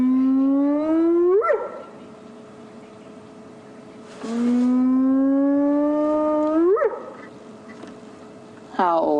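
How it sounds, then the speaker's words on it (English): A wild animal howls at sunset during a safari drive, long ghostly rising wails that swell, break upward and fade, repeated three times, loud and clear against a quiet background. "That sounded like a howl."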